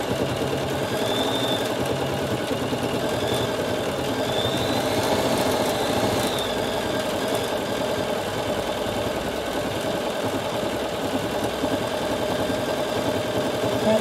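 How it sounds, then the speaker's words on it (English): A Bernina 7 series sewing machine with its embroidery module runs satin stitching, giving a fast, steady mechanical hum and rattle that continues evenly for the whole stretch with no voices. "It's now starting the satin stitching, so it's done all the base layers."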